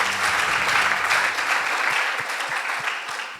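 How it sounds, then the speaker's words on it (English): An audience at a high school debate applauds the announced result, a full burst of clapping that starts loud and tapers slightly while a voice speaks briefly underneath at the start. "Give them a round of applause."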